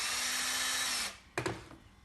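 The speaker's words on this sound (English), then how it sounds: "I'm using a battery drill." Battery drill running in a shed while building a Precious Plastic shredder, a loud steady whir for about a second that then spins down, followed by two short bursts of the drill.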